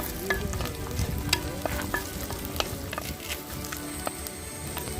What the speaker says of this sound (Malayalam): പച്ചമുളകൊക്കെ ജസ്റ്റ് ഒന്ന് മൂത്ത് ആ പച്ചമണം മാറി വരുമ്പോഴത്തേക്കും